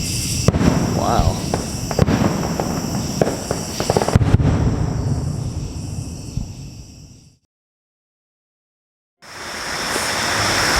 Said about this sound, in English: the fireworks are going off at Kings Island.